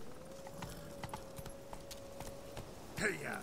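Horse hooves clip-clopping in The Witcher 3 video game, a faint, regular walking clatter under a quiet ambient tone, ending with a short vocal sound near the close.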